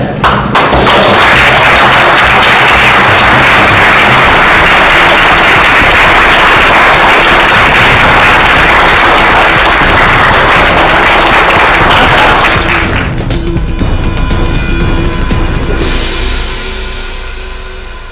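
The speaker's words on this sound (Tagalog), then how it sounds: "milyong-milyong palakpak para kay Doc Ed Cabantog." Audience applause at an AIM Global company event, loud dense clapping that sustains for around thirteen seconds and then drops off abruptly, leaving a faint fading tail.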